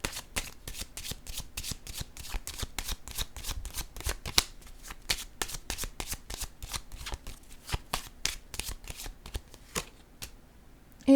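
Playing cards riffled and drawn in a steady run of rapid crisp flicks, close and loud with no talk, ending in a brief pause and one sharp snap.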